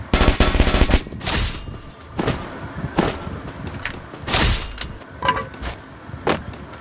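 Rapid automatic gunfire in the mobile game Free Fire opens with a dense burst, then continues as spaced single shots and short clusters, loud and close, with no speech.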